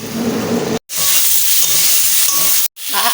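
Potatoes stir-fried in a pan, with a steady broadband sizzle and hiss that runs near and loud, cut by two brief silent breaks, with occasional scraping stirs.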